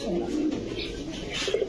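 Pigeons, including red-eyed racing birds, coo softly in a short burst of low, rounded calls close by, with faint background noise and no clear speech.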